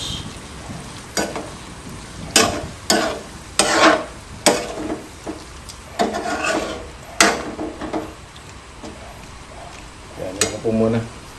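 Salted chicken livers and gizzards cook in a pan for adobo, with a sizzle underneath a series of distinct, close clanks and scrapes as a utensil stirs and strikes the pan every second or so.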